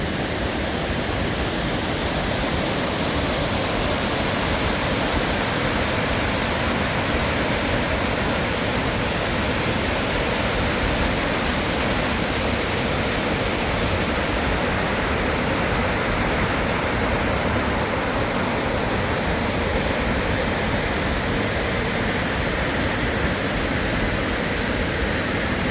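A mountain waterfall pours steadily down in the hills near Tellico Gap and Fontana, a dense, unbroken rushing roar that stays loud and constant throughout with no voices.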